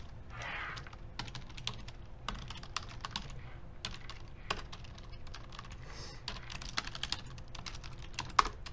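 Steady computer keyboard typing, a run of quick light key clicks with irregular rhythm and occasional louder strokes, fairly faint and close with no talking.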